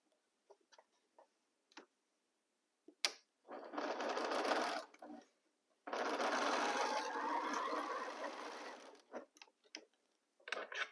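A sewing machine stitches fabric rows for a pieced box in two bursts of steady, close whirring, with light clicks and handling taps of fabric being aligned in the quiet gaps between them.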